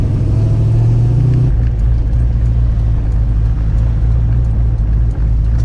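A car with a newly installed engine runs with a slight misfire, giving a loud, close, steady low rumble with a deep droning hum that shifts slightly after the first second and a half.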